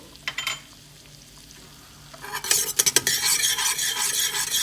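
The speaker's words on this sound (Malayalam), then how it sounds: "നന്നായിട്ട് ഇളക്കുക നല്ല മണം വരുന്നുണ്ട്" Chopped garlic frying in soft butter for garlic butter rice. A quiet lull with a couple of clinks gives way to a loud, steady sizzle, with rapid spoon scrapes and taps against the pan as it is stirred.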